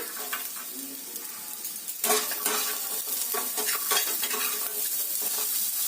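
Raw peanuts fry in a pan of oil tempered with cumin seeds, giving a steady close sizzle with scraping stirs and sharp crackles that grow busier midway, no voices.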